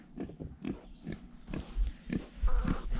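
Pigs in a pig pen on a farm grunt and oink in short repeated bursts, close by and irregular, with some shuffling and snorting between calls.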